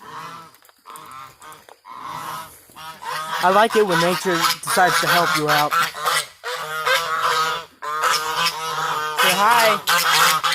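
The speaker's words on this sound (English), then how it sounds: "now I will go actually feed these birds" Farm birds on a chicken farm honk loudly and repeatedly at feeding time, goose-like calls crowding together near the listener while a person talks over them.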